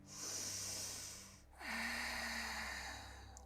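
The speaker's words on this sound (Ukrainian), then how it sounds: "Ще вдих." Two deep breaths during a yoga session on a mat, each a close, airy rushing hiss, the second followed by a soft low hum as the breath settles.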